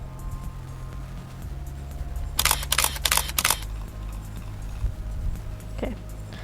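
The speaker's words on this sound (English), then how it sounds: "And the last one is a camera shutter." A camera shutter fires several times in quick succession, producing crisp mechanical clicks over a steady low background hum.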